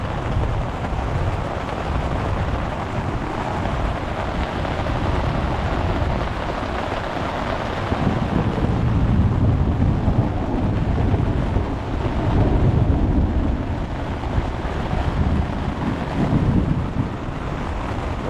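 A thunderstorm with strong wind outside a tent during a stealth-camping trip: a steady, close roar of wind and buffeting with low rumbling swells that grow louder midway, and no voices.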